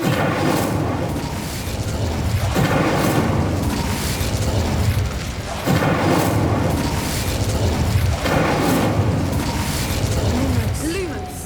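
Fire spell bursts in Hogwarts Legacy, with repeated booming whooshes roughly every few seconds over a steady bed of game ambience and music.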